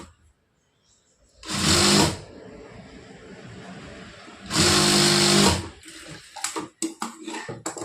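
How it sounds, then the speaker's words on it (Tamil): Sewing machine stitching a blouse seam in two loud bursts of steady whirring, each about a second long, separated by quieter rustling of fabric handling and small clicks, with no speech. "காலிஞ்சு கேப் விட்டு நம்ம தச்சுக்கலாம்"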